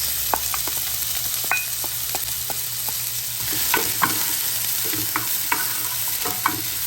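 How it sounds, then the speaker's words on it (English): Diced onions frying in a little oil in a pan: a steady close sizzle with scattered clicks and scrapes of stirring, and no talk. "we're just going to start with a little bit of oil, not too much oil, and just going to have some diced onions"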